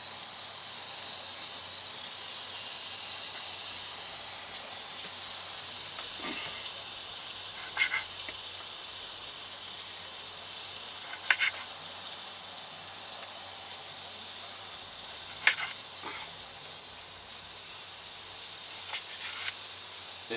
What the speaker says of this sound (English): we're just gonna start plopping them right in there with the bacon